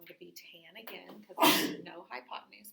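A single loud sneeze bursts out in a classroom during a trigonometry lesson, briefly overpowering a teacher's steady explanation that continues before and after it.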